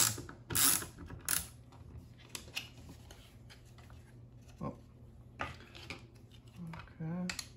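Screws are driven by hand into a 3D-printed plastic sim racing wheel rim, producing ratcheting clicks and metallic scraping in short bursts, close and fairly loud, with a brief voice near the end.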